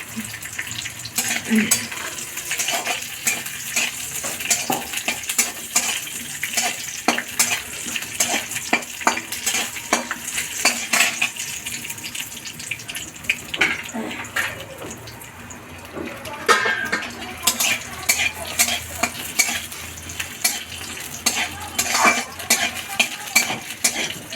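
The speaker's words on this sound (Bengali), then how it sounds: "এই বাদাম, শুকনো লঙ্কা, আদা একটু ভেজে নেব। সর্ষের তেল দিয়ে করবেন" Peanuts, dried red chillies and ginger frying in mustard oil for a Bengali cauliflower bharta, with a steady sizzle and frequent clinks and scrapes of a stirring spoon against the pan, continuous and close throughout.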